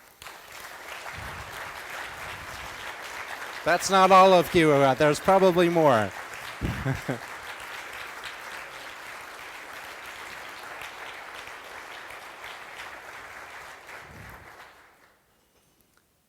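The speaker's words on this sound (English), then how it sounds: "let's stand up and give you a round of applause as well" An audience at the Ubuntu Summit 2022 closing plenary claps in steady, sustained applause for about fifteen seconds; a speaker talks briefly over it partway through before the clapping dies away.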